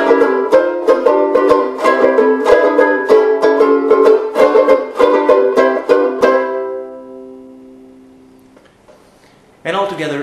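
Banjo-ukulele strummed in a standard pattern: crisp, bright, rhythmic strokes for about six seconds, then ringing out and decaying, followed by a short sound at the end.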